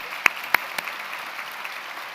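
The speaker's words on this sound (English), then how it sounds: "Let's give them a round of applause." Applause at an awards ceremony: a few sharp, loud claps close by stand out at the start over a softer, diffuse wash of clapping from the rest of the audience.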